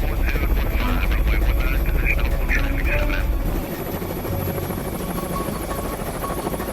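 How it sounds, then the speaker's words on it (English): A Marine One presidential helicopter approaching a landing pad fills the air with loud, steady rotor thrum and turbine whine, the pitch shifting partway through as it nears, with someone talking over it. "One helo heads straight for the landing pads"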